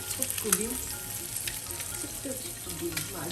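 An egg fries in oil in a pan with a soft continuous sizzle and light crackle, fairly faint, while a voice murmurs intermittently over it.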